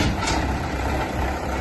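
A Farmall tractor pulling a threshing machine rumbles close by as it arrives to be loaded onto a trailer, a steady, heavy, noisy engine drone.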